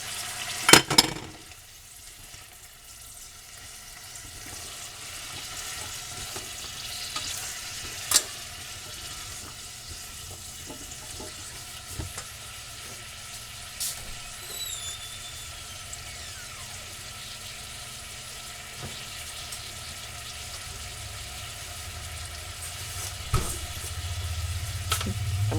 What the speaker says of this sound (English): And just make a big old pot. Add my green beans.